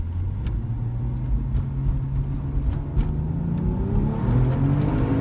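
A Porsche 911 Turbo with Cobb Stage 1/2 tuning and a Tubi-style exhaust accelerates hard in sport mode, its deep engine roar rising steadily in pitch as it pulls, heard from inside the car.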